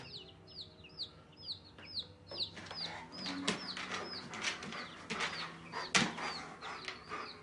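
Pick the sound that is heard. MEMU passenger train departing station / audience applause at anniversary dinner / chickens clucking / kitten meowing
chickens clucking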